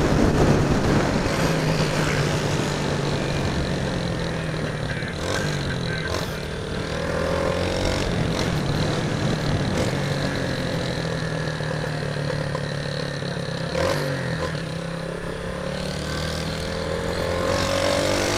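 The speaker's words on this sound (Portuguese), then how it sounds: "Gostoso demais andar de moto." A Yamaha Fazer 250 motorcycle rides through chaotic city traffic, its mid-pitched engine droning steadily up close with shifting revs, mixed with surrounding vehicle noise throughout.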